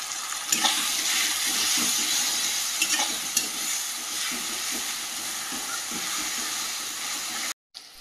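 Ginger-garlic paste hits hot oil with a loud, steady hiss that stays close and constant, broken by a few sharp stirring clinks and a brief dropout just before the end. No one speaks.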